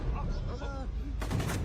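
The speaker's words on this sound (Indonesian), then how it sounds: "Gao menyelamatkannya dengan menembaki anggota Song dan Saji." Gunfire erupts in a tense film scene, sharp bursts over a dense, noisy action soundtrack with a brief voice-like cry.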